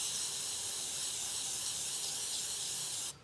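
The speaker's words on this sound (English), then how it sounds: "Next, we'll give it a rinse." A steady, close hiss of water spray rinses the rear disc brake of a 2016 Chevrolet Suburban, unbroken for about three seconds before cutting off abruptly.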